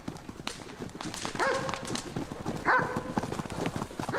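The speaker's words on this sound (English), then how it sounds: "Here the focus is on ponies, on Konix to be exact." Konik ponies' hooves clip-clopping at a Polish stable, irregular knocking steps mixed with shuffling and scattered animal noises, moderately close and fairly quiet.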